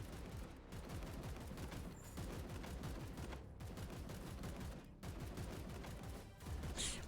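Dense, continuous gunfire and explosions from the Warhammer 40,000 video game, a rapid unbroken stream of shots with brief lulls, moderately loud and steady across the whole stretch.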